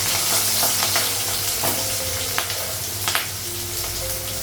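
Potato pieces frying in oil in a pan, a dense, steady sizzle with occasional clinks and scrapes of a utensil, close and fairly loud, with no speech.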